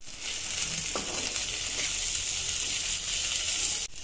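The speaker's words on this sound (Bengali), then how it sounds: "আজকে আর এখন মুরগি মাংস ভুনা করে নিচ্ছি কারণ দেরি হয়ে গেছে।" Chicken meat frying bhuna-style in a pan, a steady bright sizzle with a faint stir or scrape near the start, close and continuous, cutting off abruptly at the end.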